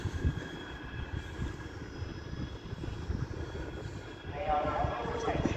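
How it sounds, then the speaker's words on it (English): A Metrolink tram from Manchester Victoria rumbles steadily around a corner at a Manchester Airport stop, with a rising grind and faint wheel squeal toward the end, against a constant outdoor background. "Now coming round the corner is another Metrolink tram from Manchester Victoria."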